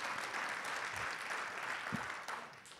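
An audience in Wisconsin applauds at a political speaking event, a dense, steady burst of clapping from a sizable crowd lasting a few seconds.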